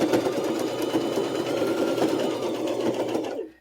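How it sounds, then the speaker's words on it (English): A home sewing machine stitches through fabric in a continuous, close, steady motor whir with rapid needle chatter, running alone until it stops just before the end. "you might have to help your sewing machine along a little"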